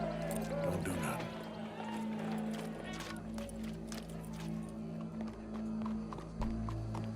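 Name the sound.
horse hooves in Red Dead Redemption 2 video game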